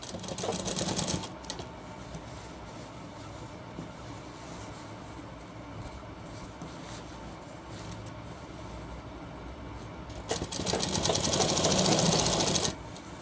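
A sewing machine runs in fast bursts at the start and again near the end, stitching three shirt pieces together at once, with quieter handling and low hum between the runs.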